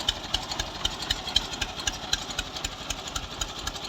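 A Romania Farmer 533 65 HP tractor engine idles steadily up close on a Pakistani farm, with a fast, even chugging pulse and no talk.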